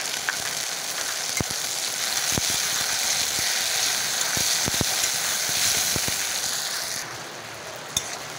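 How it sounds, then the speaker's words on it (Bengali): Chopped tomato frying with onions in a pan while cooking rui fish roe with potatoes, a steady close sizzle with sharp scattered clicks and scrapes from stirring, fading slightly toward the end, with no talking. "টমেটো কুচিটা দিয়ে দিচ্ছি।"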